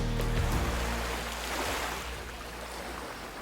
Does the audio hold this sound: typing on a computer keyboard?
no